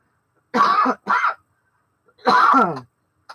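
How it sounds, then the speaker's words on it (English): Two quick, harsh coughs close together, then a pause and one longer, rougher cough, all loud and close with nothing else around them. "I'm going to cough again."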